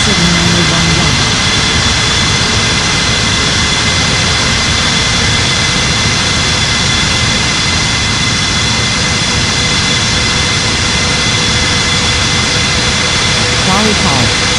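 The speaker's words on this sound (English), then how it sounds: "Cleared for takeoff on 27 Etihad 79011." An Etihad jet airliner takes off on runway 27, its engines producing a loud, sustained roar with a steady whine that holds throughout.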